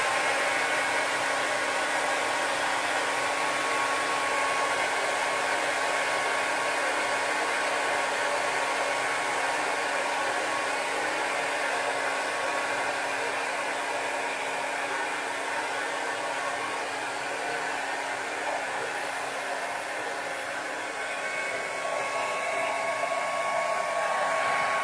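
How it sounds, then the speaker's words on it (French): Hair dryer running on its cold setting during a liquid-vapour equilibrium physics experiment: a loud, steady whooshing blower with a constant motor hum, running alone for nearly twenty-five seconds with only a slight dip near the end. "je vais prendre le sèche-cheveux, je vais le mettre sur froid"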